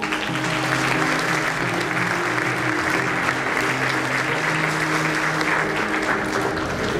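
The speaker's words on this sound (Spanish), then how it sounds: "a quien acompañamos con un fuerte aplauso." Sustained applause from an audience at a school award ceremony for top exam averages, steady and dense throughout with a faint voice beneath the clapping.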